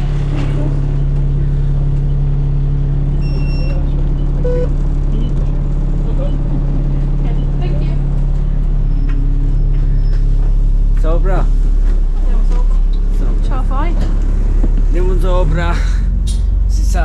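City bus in Italy pulling up at a stop, a steady engine rumble rising as it arrives, with brake hisses and squeals near the end, heard under talking.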